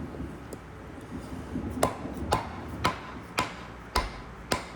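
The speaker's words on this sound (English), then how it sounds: "I started hammering through this one" Hammer blows drive through material in a cut test with a Guardian 4, a series of about seven sharp, close impacts at a steady, roughly half-second pace, each one ringing briefly.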